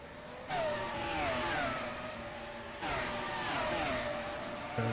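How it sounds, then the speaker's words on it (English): Race car engine in the rFactor 2 sim racing game at Kyalami, revving loudly through gear changes and easing off, then rising again, with no voices. "The car going slowly."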